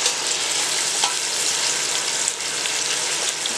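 Onion sautéing in a pan for Afghan beef stew, a loud, continuous close-up sizzle and crackle of frying with no one talking.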